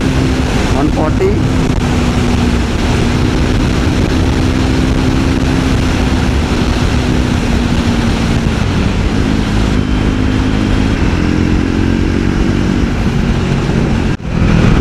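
A Triumph Scrambler 400 XC motorcycle cruises in sixth gear near top speed on a road, its steady engine drone buried under constant, loud wind rush.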